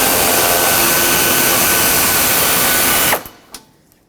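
Power ratchet spinning out 12 mm radiator mounting bolts on a 1996-2002 Toyota 4Runner, a loud continuous high whir that runs steadily for about three seconds, then cuts off abruptly, leaving a couple of faint clicks and taps.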